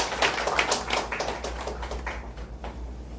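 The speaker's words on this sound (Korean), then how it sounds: "우리 서로 한번 경례의 박수를 한번" A church congregation claps together in a steady rhythm, moderately loud and a little distant, over a low room hum.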